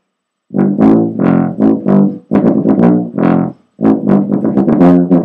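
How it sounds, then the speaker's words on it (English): A tuba plays a melodic line of separate sustained and short notes, loud and close, phrased with brief gaps and no other sounds. "occasionally a composer will decide to give the tuba a melodic line, in which case, the tuba might sound something like this."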